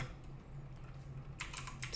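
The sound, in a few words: typing on a computer keyboard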